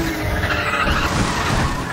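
A car skids out of control in Need For Speed The Run, with a steady high tire squeal wavering in pitch over the engine roar, loud and continuous.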